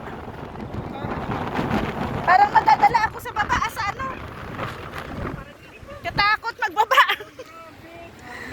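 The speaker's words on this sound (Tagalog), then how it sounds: "Lakas ng hangin." Strong wind buffets the microphone in a steady rumbling roar, with people talking over it throughout.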